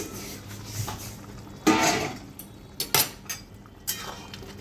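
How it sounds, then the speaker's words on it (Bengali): A cooking pot lid, covering boiling potatoes, is lifted off with a few metallic clinks and clanks, one louder knock and several lighter taps over a low background hum, close by and with no talking. "একটু চাপা দিয়ে দিয়েছিলাম, চাপাটা একটু খুলে নেবো"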